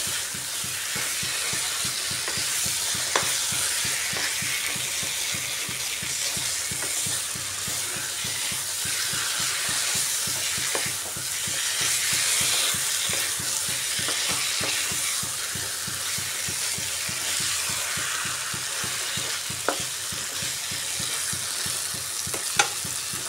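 Chicken sizzles and crackles as it is stir-fried on full gas heat, with steady rhythmic stirring scrapes in the pan and a constant hissing fry underneath, close and even throughout.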